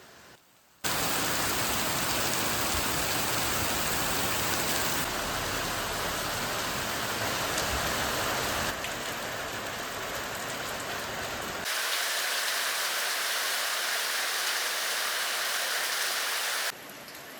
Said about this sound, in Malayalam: അപ്പോൾ നല്ലൊരു മഴയാണ്.